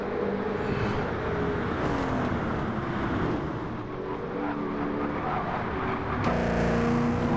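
V8 Supercars race in Gran Turismo 7 with a dense, continuous engine drone and shifting pitch as several cars run close together, loud throughout with a brief rise near the end.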